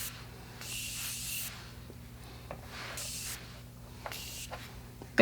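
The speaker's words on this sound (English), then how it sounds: "I'm going to go ahead and just give me a nice spray." Makeup setting spray hisses in several short bursts from close range, each a soft airy mist separated by brief pauses.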